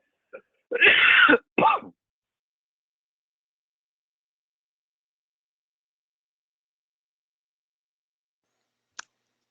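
A short burst of two harsh coughs or throat clears, then near silence with a faint click at the end.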